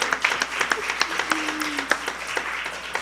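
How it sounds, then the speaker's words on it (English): A church congregation at a Sunday service welcomes a guest with light, scattered clapping, the individual claps distinct and fairly quiet over a soft room hum. "Let's just welcome him with a round of applause."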